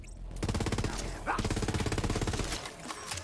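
The Breath of the Dying gun in the Borderlands 3 video game fires in a rapid, continuous burst of closely spaced, loud, punchy shots for about three seconds, with no pauses between rounds.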